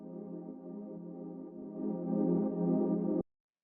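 An old-school house choir sample layered beneath a synth pad: a sustained, warm chordal wash that swells slightly in the second half, then cuts off abruptly, with no voices or other sounds.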